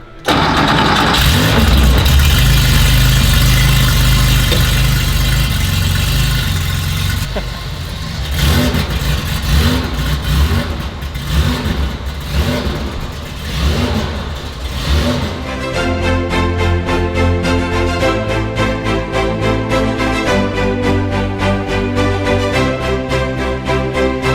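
Cold car engine cranking and catching, then revving loudly several times before settling into a rough, throbbing idle, close and loud throughout with no talk.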